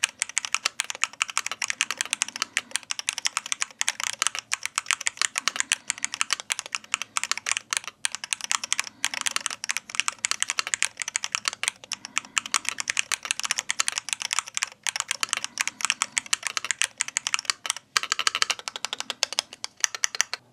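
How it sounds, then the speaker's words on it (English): Fast, steady typing on a keyboard fitted with TTC Magneto magnetic switches, loud and very consistent keystrokes rattling close up with no pauses or talk. "So about TTC Magneto sound, you can hear that it's steady, loud, and it's very consistent."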